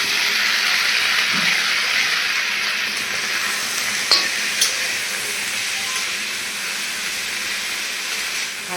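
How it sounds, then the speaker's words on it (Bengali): Jackfruit seeds and pumpkin greens frying in a pan with a little oil, giving a steady loud sizzling hiss with faint scrapes and clicks as they are stirred, close and continuous without talk. "আমি কাঁঠালের বীজ শাক একসঙ্গে দিয়ে দিব।"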